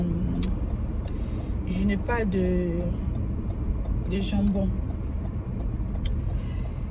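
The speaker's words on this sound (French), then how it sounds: "C'est bizarre comme il y a les voitures en route." Cars on a road pass nearby with a steady traffic rumble, while a person talks over it in short phrases.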